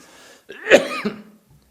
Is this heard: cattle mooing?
no